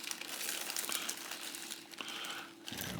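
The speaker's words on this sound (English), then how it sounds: "Okay, there it is in its plastic bag." Plastic bag crinkling and rustling around a Hi-Point C9 handgun during unboxing, a steady close, continuous crackle with a few sharper crunches, no talking.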